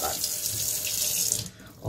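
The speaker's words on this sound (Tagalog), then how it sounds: "From the real faucet of the Netherlands." Water runs steadily from a kitchen faucet in the Netherlands, a continuous close hiss and splash that breaks off briefly near the end.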